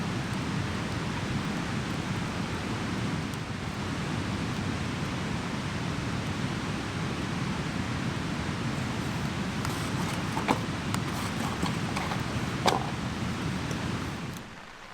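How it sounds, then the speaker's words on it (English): Rain falls steadily on a Superfly tarp at a camp during an overland trip in the Rocky Mountains, a constant soft hiss with a few faint taps and patters and no one talking. "So we do have a bit of rain coming down at the moment."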